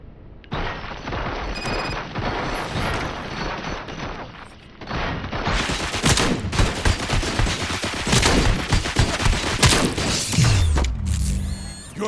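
Rapid gunfire from a Robocop: Rogue City shootout in a police station setting makes a loud, dense fusillade of overlapping shots that continues almost nonstop for about ten seconds, briefly thinning midway before ending.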